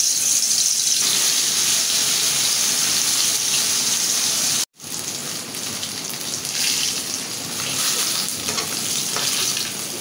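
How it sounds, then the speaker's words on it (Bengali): Snakehead fish fries in hot oil, a loud continuous crackling sizzle with a dense spitting hiss, broken once by a sudden brief gap before the frying resumes just as strongly. "তেলটা গরম হয়ে গেছে, এখন আমি মাছটা দিয়ে দেই।"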